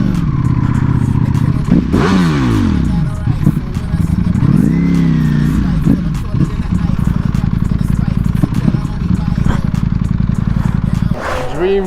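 A Ducati Panigale V4S motorcycle engine rumbles loudly and close at a street supercar meet in London, with throttle blips rising and falling over a steady idle, while people talk nearby.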